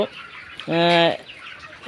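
A 28-day-old chicken on a poultry farm lets out a single loud, sustained call of about half a second, close by, with quiet background sounds before and after.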